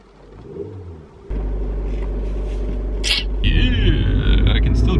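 A car engine cranks and catches, then idles with a steady low rumble that grows louder as it revs, close by.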